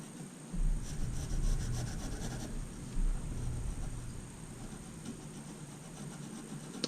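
A pencil colors in a drawing of a phoenix on paper, making quiet, continuous scratchy rubbing strokes with soft, uneven scraping pulses and no talking.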